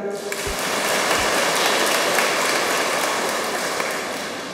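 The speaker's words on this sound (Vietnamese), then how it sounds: "Tôi lừa thế mà cũng vỗ tay" Steady applause from a congregation inside a church during a Lenten retreat Mass, a dense continuous clatter of many hands at close range, with a few brief low thumps at the start.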